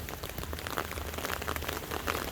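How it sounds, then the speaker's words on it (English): Rain falls steadily outdoors over water-management earthworks near a pond, a continuous dense patter of drops hitting surfaces with no voices. "I hope that the rain coming down isn't too loud."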